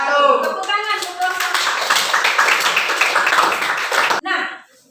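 An audience in a classroom claps together after a class presentation, a dense burst of many hands lasting about four seconds before it stops abruptly. A few scattered claps follow as it fades.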